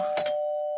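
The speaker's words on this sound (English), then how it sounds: "he rang my doorbell" A single electronic doorbell chime from a video game rings out clearly, two quick tones followed by a sustained, slowly fading tone, with no talking.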